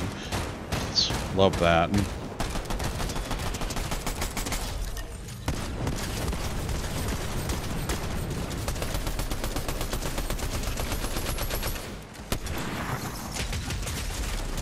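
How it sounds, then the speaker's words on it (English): A staple machine gun in a video game fires in long rapid bursts, dense crackling volleys that go on for most of the stretch with brief pauses, and someone speaks briefly over the gunfire. "I have found the weapon, the staple gun. It's basically just a staple machine gun."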